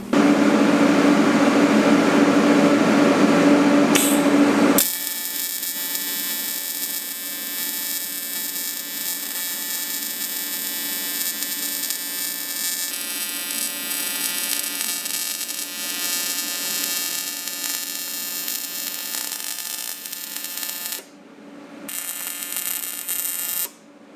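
A TIG welder works on aluminum, giving a loud, steady electric buzz and hum that holds for about twenty seconds. A harsher hiss opens the sound, and the arc cuts off briefly near the end.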